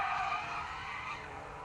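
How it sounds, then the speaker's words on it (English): A Mazda MX-5 race car spins at the Anglesey circuit during a BRSCC championship race, its tires letting out a loud, sustained skidding squeal that gradually fades as the slide ends, with no voices over it. "spin there for car number 66"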